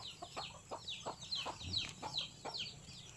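Domestic chickens cluck and squawk in a farmyard, several short repeated calls spread over a few seconds at moderate distance, with faint background noise.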